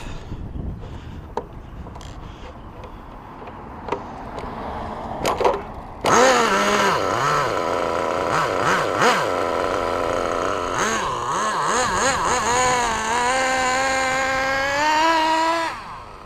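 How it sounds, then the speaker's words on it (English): An HPI Nitro RS4 3 Evo+ RC car's small nitro glow engine, on 30% nitro fuel, starts after a few faint attempts and then runs steadily with a high, buzzing whine that rises and falls with the throttle, loud and close. "This one actually prefers a little bit of throttle when I start it, but once it starts, it stays running."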